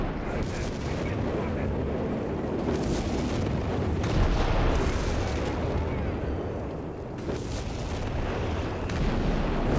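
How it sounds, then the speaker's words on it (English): American howitzers fire in the strategy game Company of Heroes 3. Heavy artillery booms and rumbling explosions blend into a dense, continuous battle roar. "the American howitzers just, you know, bellowing out"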